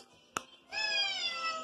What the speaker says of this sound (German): Ach so, Katze, du möchtest gestreichelt werden?